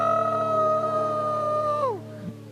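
A performer imitates a dog's howl, a loud, sustained vocal wail that holds steady, then slides downward and fades, heard alone without talk.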